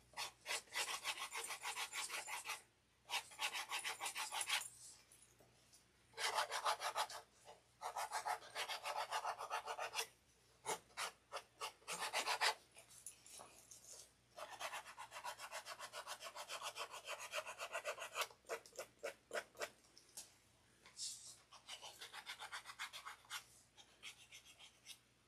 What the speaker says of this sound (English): You're sanding it down so that way it opens up the glue a little bit more